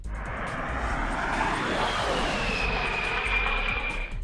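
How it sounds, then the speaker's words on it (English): An all-electric race car screams past on a track with a high, jet-like whine, loud and sustained, with no engine rumble and no voices. "That may sound like a jet, but it's actually an all-electric car that flew down the track"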